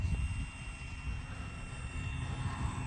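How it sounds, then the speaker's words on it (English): An FMS Pitts radio-controlled biplane coming in to land as its engine throttles up, a steady moderate whine over a low rumble lasting about three seconds, with no talking. "Throttle's cut right now, letting it ease in. Bringing in a little throttle now."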